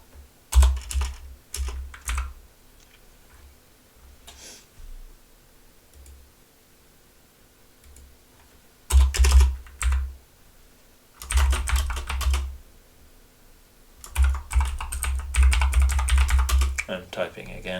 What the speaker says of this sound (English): I'm typing again.